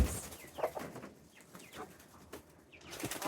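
Hens and baby chicks around a brooder box give soft, close clucks and short chirps in an irregular scatter, quiet and unhurried.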